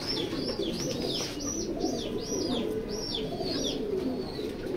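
Young racing pigeons at a loft coo in a repeated series of soft, rolling calls, about eight phrases in a steady rhythm against a constant low background hum.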